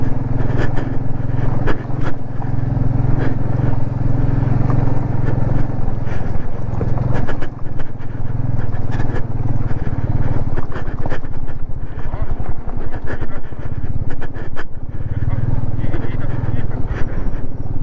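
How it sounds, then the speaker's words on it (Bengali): A motorbike crosses a hanging bridge on a Mustang ride toward Dhumba Lake, a loud steady engine drone with rattling and clattering from the bridge, heard close under intermittent talk. "হ্যাঁ, বাইক পার হচ্ছে।"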